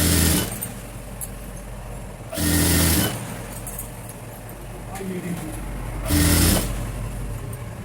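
A sewing machine stitching the back neck of a girl's frock runs in three loud bursts of steady mechanical whirring, separated by stretches of nearby talk.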